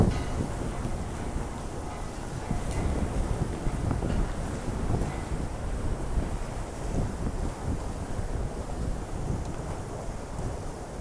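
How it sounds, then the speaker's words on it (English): Typhoon Hato in Hong Kong: strong wind roars and buffets the microphone with driving rain, a heavy, continuous low rumble and hiss with no voices. "the wind is still blowing the rain in on me"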